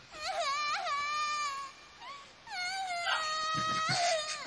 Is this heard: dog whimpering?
yes